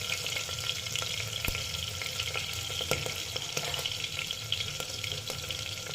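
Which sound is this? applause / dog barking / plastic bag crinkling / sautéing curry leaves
sautéing curry leaves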